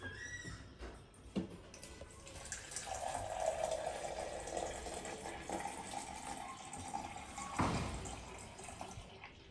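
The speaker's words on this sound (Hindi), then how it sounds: "ये बॉटल को वॉश कर रही हूँ पानी डालने के लिए" Running water from a tap splashes into and over a bottle being washed, quiet and close, with uneven gushing and dribbling and a louder splash near the end.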